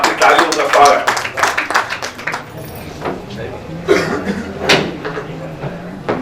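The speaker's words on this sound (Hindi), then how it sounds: "एक बार जोरदार तालियां" Crowd applause at an award ceremony in Raipur greets a speaker being welcomed on stage, a burst of clapping that thins out over several seconds while voices carry on around it.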